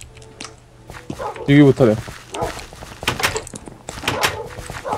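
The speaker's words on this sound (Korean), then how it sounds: "일단 이거 개 목소리거든?" In a Minecraft escape map, a dog barks as a short in-game sound effect while players talk over it.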